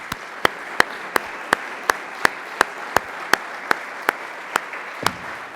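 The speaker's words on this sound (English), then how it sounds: "Big round of applause for Bill." Audience applause at a troop's 101st anniversary celebration, heard as a steady run of single sharp claps at an even pace, mostly one clapper standing out over a faint room background.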